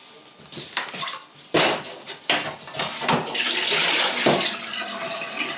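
Tap water runs and splashes in a home kitchen as a pot is filled to boil eggs with salt, with dish and pot clatter, a steady rushing flow growing louder in the second half.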